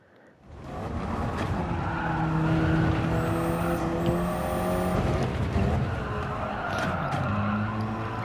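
KTM X-Bow race car at Road Atlanta in Gran Turismo 7, its engine note rising and dropping through quick upshifts, with tire squeal and a steady roar running throughout.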